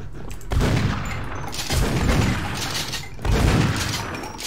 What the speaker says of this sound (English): That shotgun damage is fun.